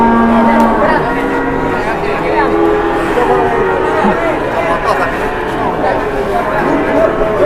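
Cattle on a road in a busy crowd, one cow lowing repeatedly amid loud overlapping chatter and shouting voices throughout.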